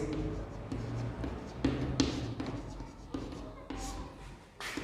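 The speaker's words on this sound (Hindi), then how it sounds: "तो यहाँ लिखेंगे" Pen or chalk writing out a matrix during a Class 12 maths lesson, soft scratchy strokes in short bursts running under a man's spoken explanation.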